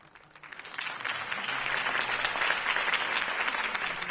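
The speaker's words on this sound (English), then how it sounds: "could have heard that applause" Enthusiastic crowd applause in a Batman video game swells quickly and holds steady, a dense wash of many hands clapping with faint cheering mixed in.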